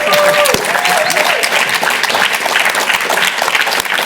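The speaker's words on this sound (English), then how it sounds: "Let's give them a round of applause." A studio audience gives loud, sustained applause for contestants at the final show of a comedy game show, with cheers and a few whoops rising over the dense clapping.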